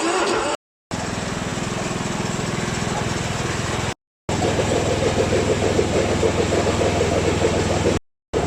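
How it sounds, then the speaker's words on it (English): A lawnmower with damaged, worn-out blades runs steadily on an Australian sheep farm, a loud rough mechanical drone with a rattling grind that carries on without a break. "the lawnmower blades are stuffed and they're making a terrible noise"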